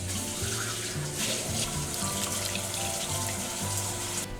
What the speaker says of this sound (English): Now we're going to add half a cup of hot water.